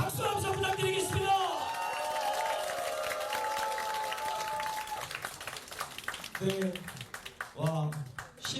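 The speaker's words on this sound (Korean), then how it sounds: "다시 한번 뜨거운 박수 함성 부탁드리겠습니다" Crowd at a political talk concert claps and cheers while an amplified voice and music-like tones carry over the top, the applause rising and falling in bursts beneath the talk.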